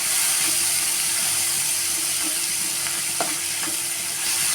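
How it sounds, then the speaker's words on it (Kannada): Tomato and onion with salt frying in a pan, a steady close sizzle with occasional light scrapes and taps from a spoon stirring, no voices. "ಟೊಮೊಟೊ ಸ್ವಲ್ಪ ಫ್ರೈ ಆಗಲಿ"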